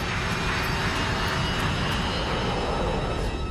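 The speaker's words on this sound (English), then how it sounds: "727 is seconds away from leaving the ground" A Boeing 727 jet accelerates down the runway for takeoff, its engines producing a loud, steady, continuous roar with no break throughout.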